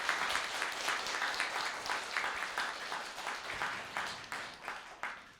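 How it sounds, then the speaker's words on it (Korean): Warm applause from a talk concert audience, a steady patter of many hands clapping for several seconds before gradually thinning out. "우리 송현수 씨에게 좀 힘내시라고 좀 격려의 박수 한번 따뜻하게 보내주시기 바랍니다."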